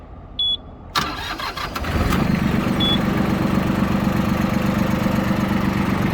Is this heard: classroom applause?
no